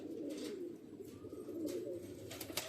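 Ilyas Bhai's old black chira pigeon and his other pigeons in Karanja coo faintly in a low, continuous warble, with a few soft rustles above it.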